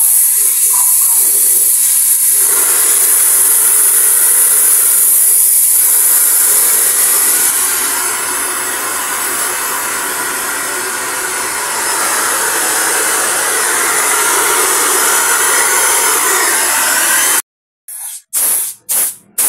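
141B solvent flushed through air conditioner refrigerant lines during a home repair, a loud continuous hiss of spraying fluid that ends in a few short sputtering bursts.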